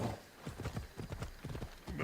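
Horse hooves in Assassin's Creed Odyssey, a quick uneven clip-clop of a trotting horse, faint and fairly close, with soft ambient background and no talking.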